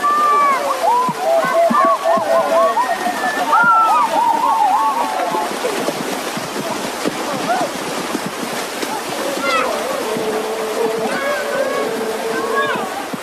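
Men bathe in a small river beside a village, splashing and sloshing water continuously and fairly close, while voices chatter and call out over the water.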